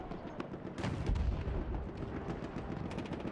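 In the Battlefield 1 video game a mortar fires, a faint, muffled low boom at about one second that is followed by a rumbling battle ambience of distant blasts and gunfire.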